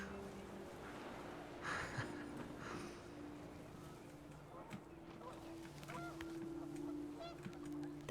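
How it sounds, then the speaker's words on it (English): Geese honk in the game What Remains of Edith Finch, a few scattered honks amid wind, partly beneath a narrator's voice. "The wind picked up, and panicked geese appeared and quickly went."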